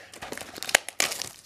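Plastic shrink wrap crinkles and tears off a Legendary Duelist: White Dragon Abyss Yu-Gi-Oh booster box, with close, irregular bursts of crackling and one sharp rip, and no talking.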